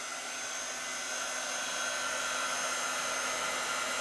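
A heat gun on its low setting blows a steady, even whoosh of air, close and continuous with no variation and no voices over it.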